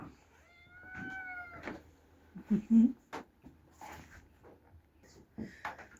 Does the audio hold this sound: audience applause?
no